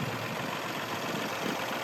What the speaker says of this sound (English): this is a 40 horsepower tractor, and that's a 6 foot wide finish mower